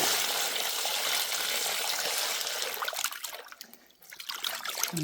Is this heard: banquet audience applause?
no